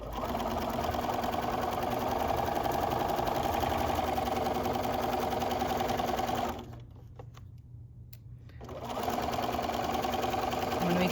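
A sewing machine stitches a fabric book bag with a steady rapid mechanical hum, pauses briefly midway, then runs on. Someone talks over the machine throughout.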